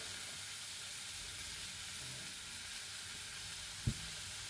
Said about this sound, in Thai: เดี๋ยวผัดไปเรื่อย ๆน้ำสักนิดก่อน แล้วก็จะสุก